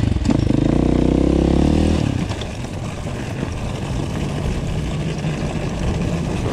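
An enduro motorcycle revs loud and close on an off-road ride, a harsh droning roar for about two seconds before dropping to a rough rumble mixed with wind and rolling noise.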